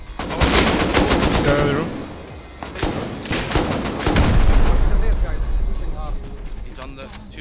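Loud, rapid bursts of gunfire echo through a raid in the Rust video game, with overlapping volleys and sharp cracks that go on almost without a break while people talk over them.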